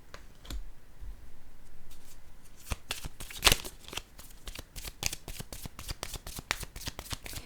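Playing cards are handled and set down close by: quick snapping flicks, a rustling shuffle and a rapid series of crisp taps.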